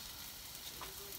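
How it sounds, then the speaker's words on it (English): Yellow onions frying with ginger in a pot, caramelizing for bulalo soup, give off a faint, steady sizzle that stays even and unbroken throughout. "I want to caramelize the onion a little bit"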